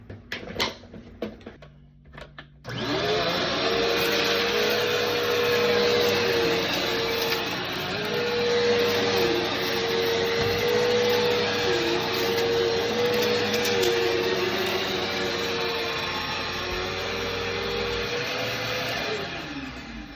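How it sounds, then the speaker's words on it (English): A vacuum cleaner starts after a brief quiet moment and then runs steadily and loudly over a small, dusty upstairs walkway, its motor whine holding an even pitch for the rest of the stretch. "I've literally been vacuuming for 5 seconds"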